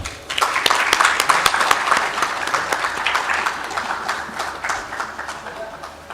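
An audience at a retail conference and awards event claps to welcome Bisleri International CEO Angelo George, sharp individual claps merging into a loud, lively round that gradually thins toward the end.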